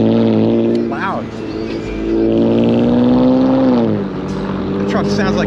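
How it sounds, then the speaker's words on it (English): A loud truck engine drones close by on a city road, its pitch rising and falling as it accelerates in traffic beside a bike lane, with a voice talking over it. "The truck sounds like shit."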